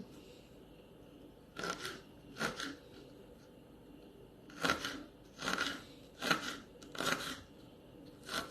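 A knife cuts potatoes into small lengthwise pieces, giving about eight crisp, scraping slices in uneven clusters, close and clear over a quiet room.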